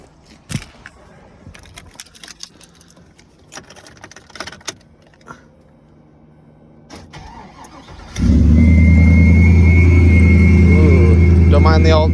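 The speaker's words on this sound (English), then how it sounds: "It's 6-liter 4L80, true duals with Flowmasters, and we'll do a cold start here." 2003 Chevrolet Silverado 1500HD with a 6-liter V8, 4L80 transmission and true dual Flowmaster exhausts, cold-started after scattered clicks and handling noises; the engine catches and settles into a loud, deep, steady idle up close.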